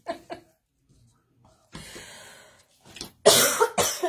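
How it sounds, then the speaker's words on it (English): Several harsh coughs from a person with a bad cough burst out close by, a couple of quick ones early and then a loud, rough fit near the end, with quiet gaps between. "This cough is something else."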